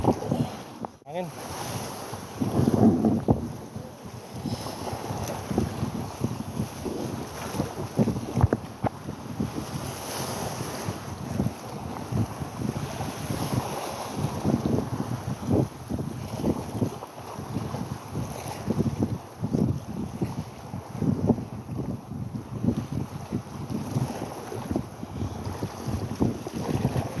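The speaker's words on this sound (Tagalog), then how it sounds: "Hangin." Strong wind buffets the microphone on a small fishing boat at sea, a constant loud roar mixed with water and hull noise throughout, while someone speaks intermittently underneath.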